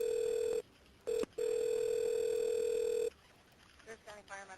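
During a 911 emergency call being transferred to the fire department, a steady telephone tone sounds, breaks briefly, resumes, then cuts off, leaving quiet line noise and faint voices.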